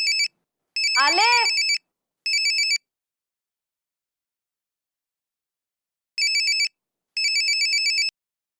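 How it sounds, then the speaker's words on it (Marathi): A mobile phone ringtone plays in loud electronic beeping bursts, with two quick groups, a long pause, then two more, and a brief voice-like sweep over the opening bursts. "अनन्या, तुझा फोन वाजतोय."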